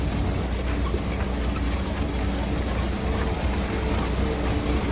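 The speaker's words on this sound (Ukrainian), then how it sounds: "Трактор поки що не мій, але сівалочка вже в роботі." A tractor engine drones steadily with a rumbling, clattering mechanical noise from a mounted SZ seed drill with spring coverers, loud and continuous with no voices.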